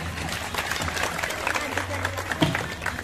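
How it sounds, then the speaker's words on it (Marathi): A crowd claps at a women's fair in Bhusawal, with dense, steady applause under a voice over a loudspeaker. "हाताच्या सोडून द्या आणि टाळ्या द्या."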